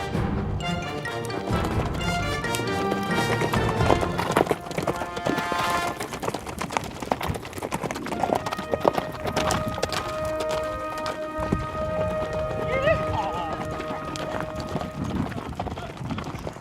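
Horses trotting on a trail through the mountains at White Stallion Ranch, with rhythmic clip-clop hoofbeats mixed under background music throughout and a voice talking over part of it.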